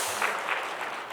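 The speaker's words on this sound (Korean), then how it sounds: "박수까지 해주셔서 감사드립니다" Brief, soft applause from a church congregation at a Wednesday morning service, a short patter of hands that stays faint and distant.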